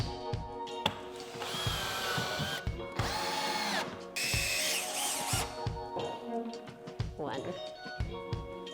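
A power drill drives screws into wooden scaffolding joists during a loft build, with several loud whirring bursts separated by short pauses and interspersed knocks and handling noises, while someone talks over parts of it.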